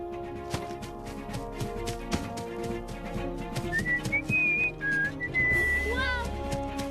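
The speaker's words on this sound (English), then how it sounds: "why were you whistling like that?" A woman whistles a rising, warbling call to summon Paul Bunyan in an animated film, with bright clear notes over background music and effects, with other voices briefly heard.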